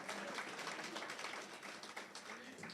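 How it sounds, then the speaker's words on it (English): Crowd applause for a choir at a CEOs' breakfast with the Namibian president, a dense patter of many hands clapping at a steady, moderate level throughout. "give the Namibia Revenue Agency Choir another round of applause"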